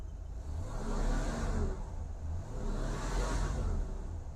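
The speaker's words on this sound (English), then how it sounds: "Boy, this car sure does run nice, guys." A Pontiac Grand Prix engine with an overheating problem runs steadily nearby, its hum swelling twice in smooth waves, with no talk.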